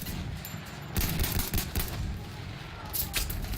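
Battlefield 1 gunfire crackles in dense, rapid bursts mixed with other game noise, loud and continuous throughout the short stretch.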